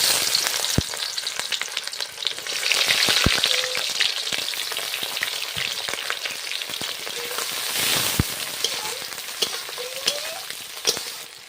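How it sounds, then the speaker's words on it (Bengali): Green chilies and sliced onion fry in hot oil with a steady, close crackling sizzle and occasional sharp pops and stirring clatters, no voices. "কাঁচা লঙ্কা আর পেঁয়াজ কোচাগুলো দিয়ে দিচ্ছি তেলে"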